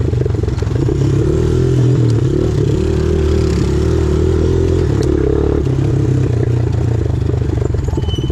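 Yamaha Raptor quad on dirt trails, its engine a loud, close, continuous rumble with rising and falling revs and some rattling clatter, running throughout without talk.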